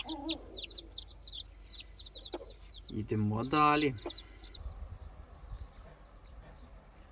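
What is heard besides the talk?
mother hen clucking with chicks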